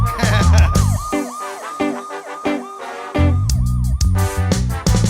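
A siren sound effect opens a song, wailing pitch sweeps over a pounding beat and synth chords, cutting in and out in short bursts.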